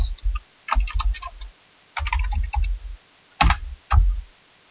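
A computer keyboard is typed on in short bursts, with quick clusters of close, crisp key clicks separated by brief pauses as a username is entered.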